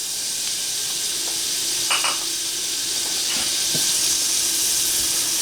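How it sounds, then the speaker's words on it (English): Chopped onion sautéing in olive oil in a pan, a steady bright sizzle and hiss running throughout, with a few faint clinks of a utensil against the pan. "We're going to add that onion. We're going to saute this down."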